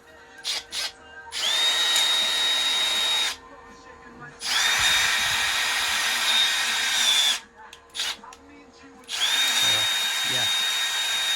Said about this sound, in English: The hammer didn't work, so we're going to use the drill.